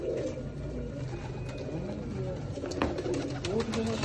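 Soft, low cooing of a pure Sharmila pigeon, an aged bird, repeated in gentle rolling murmurs close by with faint background noise.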